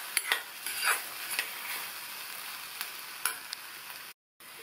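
Cumin being stirred into a hot ridge gourd stir-fry with chana dal, a soft sizzle broken by several light spoon scrapes and taps against the pan, with a short silent gap near the end.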